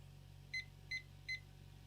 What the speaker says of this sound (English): now what we're going to do is we're going to set our timer first for 3 minutes